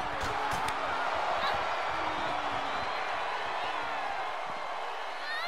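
Constant roar of an arena crowd cheering in the WWE 2K22 wrestling video game, a steady wash of noise with scattered sharp thuds and a voice under it throughout.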